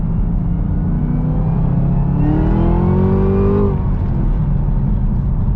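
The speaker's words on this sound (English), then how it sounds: "That is nothing but wheel spin, y'all." Car wheels spinning under hard acceleration on warm pavement with good tires, a loud steady engine roar from inside the car with a whining pitch that climbs and then drops, no talking.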